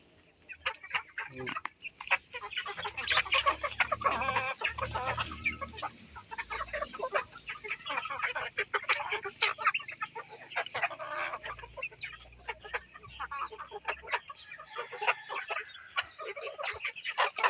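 Native Visayan chickens and small chicks cluck and peep steadily and close by, with dense overlapping calls from several birds throughout.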